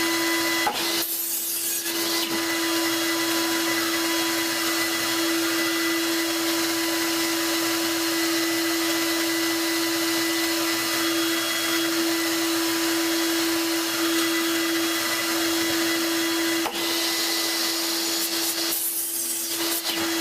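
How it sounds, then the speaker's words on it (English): Shop vacuum running steadily in a woodworking shop, a loud, constant whine with a strong tonal hum throughout, briefly dipping near the start and again near the end, with no talking. "when they make a quiet vacuum, we're going to be in heaven"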